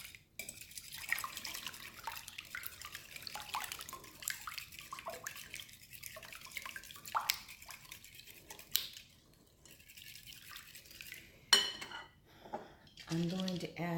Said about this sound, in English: And whisk these together.